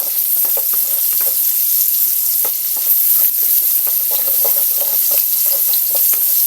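Pork sautés in a pan with garlic and onion, a steady close sizzle and crackle with small spattering pops and occasional stirring, no talking.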